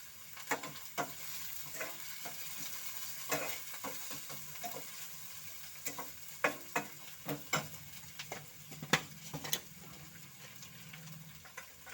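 Whole cumin seeds sizzle steadily in hot oil in a pan, with a continuous frying hiss punctuated by sharp crackling pops and spatters, close up and without any talking.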